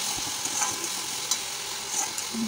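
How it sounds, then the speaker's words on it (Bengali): Turmeric, cumin powder, Kashmiri chili and meat masala sautéed in a pan for a rohu fish and potato curry, a moderate sizzle broken by several spatula scrapes and knocks, nearby and without speech. "এটা দিয়ে দিয়ে ভালো করে মশলাটাকে কষিয়ে নেবো"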